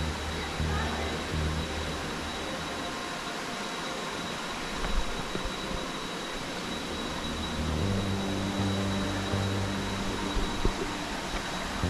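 Tsunami Waterfall in the jungle near Khao Lak in dry season, a steady broadband rush of falling water running continuously without pause, with a faint high whine and a low rumbling hum beneath it.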